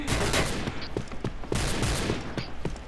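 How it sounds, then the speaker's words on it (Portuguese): Gunfire in the online shooter game Point Blank: repeated rapid bursts and single shots crack in quick succession, loud and continuous throughout, with no voices. "Ouço tiros, mas não sei da onde."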